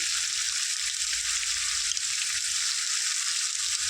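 Chicken pieces frying in hot oil in a pan for a Telangana-style chicken curry, a steady, dense sizzle held at an even level for the whole stretch with no voices.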